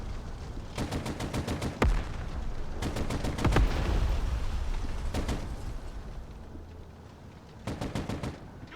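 Bursts of M240 machine gun fire in the video game Broken Arrow, several rapid strings of shots separated by pauses, with a sharp heavier bang near the two-second mark; loud and close with a busy battle backdrop.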